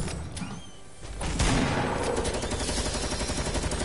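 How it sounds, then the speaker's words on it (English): Heavy shotgun in Fortnite fires with a sharp blast, followed by a dense burst of rapid, loud gunfire that continues steadily to the end. "Heavy shotgun."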